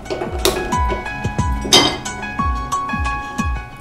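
A pan set onto a home kitchen stove while cooking sago and chana dal payasam, with a run of sharp metallic clinks and knocks spaced through the moment, close and fairly loud, with no talking.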